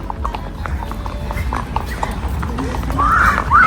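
Horse hooves clip-clop steadily while a horse is ridden, with a whinny near the end, all over a continuous outdoor rumble.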